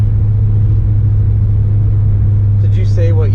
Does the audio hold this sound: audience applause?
no